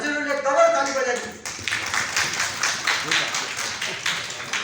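An audience of school staff and guests breaks into clapping honouring a teacher for outstanding maths results, starting after an announcer's voice and continuing as a moderate, fairly close round of applause.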